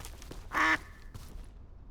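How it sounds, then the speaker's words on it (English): A single loud, nasal duck quack bursts out close by, brief and alone against a quiet background. "Demonstrating the definition of insanity, I tried to befriend another duck."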